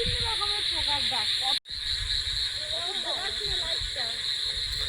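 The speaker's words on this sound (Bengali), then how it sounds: "ঝিঝি পোকা, ব্যাঙ, বিভিন্ন রকমের পোকার ডাক" Night chorus of crickets, frogs and assorted insects after heavy rain: a steady high-pitched cricket drone with croaking and chirping frog calls layered below, continuous throughout apart from one brief dropout.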